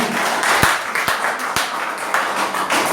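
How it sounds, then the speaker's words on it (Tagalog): A church congregation claps during a Tagalog sermon, a dense patter of hands with a few sharp louder claps standing out, carrying on evenly for a few seconds with no voice over it. "Pumalakpak ang mga kinaluluguran ni Lord."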